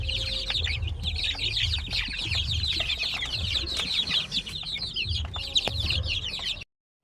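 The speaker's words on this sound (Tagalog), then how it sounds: "So yan po yung mga sisiw na 1 month old." A group of one-month-old Zampen chicks nearby keeps up continuous high peeping and soft clucking, with occasional rustling and wing flutters.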